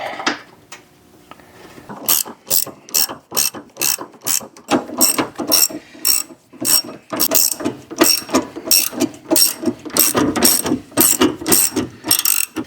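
A ratchet wrench tightens the motor mount nuts on a 2011 Ford Fiesta, loud and close, with rapid clicking bursts in repeated strokes and short pauses between them, and no voices.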